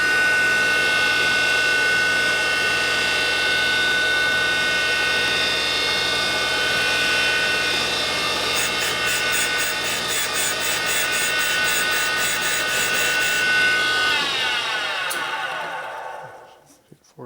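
A power grinder resharpening thick blades, a loud steady high whine with a harsh grinding edge that runs for several seconds and then spins down to quiet at the end.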